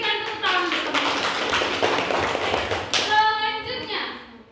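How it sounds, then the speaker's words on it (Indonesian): Classmates in a classroom clap together for their peers, a quick, bright burst of many small hands clapping in a close rhythmic patter, with a teacher's voice speaking over it near the end. "kita berikan tepuk tangan untuk teman-teman"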